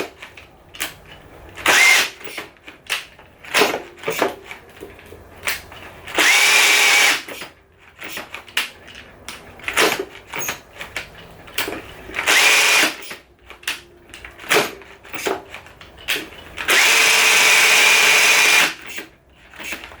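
Ryobi and Dewalt drill drivers running under load in a head-to-head test: bursts of loud motor whine several seconds long alternating with short whirs and clicks, close and harsh.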